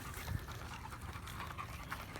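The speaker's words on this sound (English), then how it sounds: "those two dogs just ran by" Two dogs, likely Akitas, pant quietly as they run past nearby, a faint, steady breathy rasp against soft background noise with no one talking.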